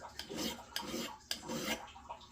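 Fiskars X27 axe edge being sharpened to a micro bevel, three or four quick rasping strokes of an abrasive against steel, close and fairly quiet, each with a sharp onset.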